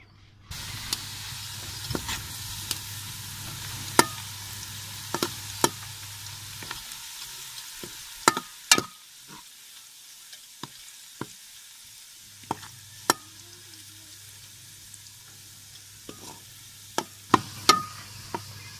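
Onions sizzle softly in hot oil, a quiet steady frying hiss broken by occasional sharp clicks and utensil taps against the pan.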